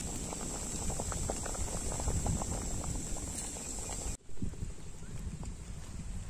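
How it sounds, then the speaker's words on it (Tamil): Water bubbles steadily in a pot set up to cook cauliflower in a village kitchen, a soft continuous boiling hiss with faint bursts, briefly interrupted near the end. "தண்ணி செம்மையாக கொதிச்சுட்டு இருக்கு"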